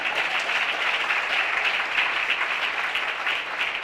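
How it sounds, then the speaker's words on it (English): An audience at an awards ceremony applauds in a dense, continuous burst of clapping, loud and sustained throughout with no break, the crowd heard close. "Give him a big round of applause."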